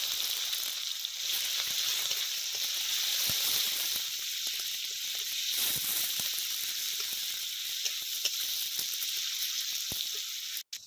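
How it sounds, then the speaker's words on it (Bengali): Chopped onions frying in oil for a tabka dish, a steady close sizzle with fine crackling hiss that runs unbroken for about eleven seconds, cutting off abruptly at the end. "ওইদিকে পেঁয়াজটা ভাজা হচ্ছে"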